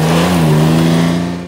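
A 2019 Can-Am Ryker three-wheeler with a continuously variable transmission drones loudly and steadily up close, its engine holding a strong, even tone that eases slightly at the end.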